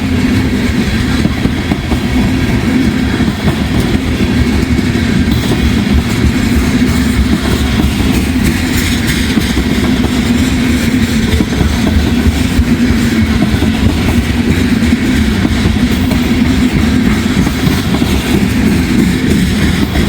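A long intermodal freight train rumbles steadily past at close range, a loud continuous low roar with faint wheel clatter throughout.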